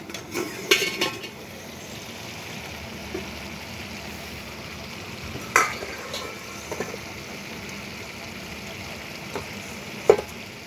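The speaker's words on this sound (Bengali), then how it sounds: "ঢাকনাটা নামিয়ে নিচ্ছি।" A lid being set down on a cooking pot, heard as a few sharp metallic clinks spread over a soft, steady simmering hiss from the kitchen.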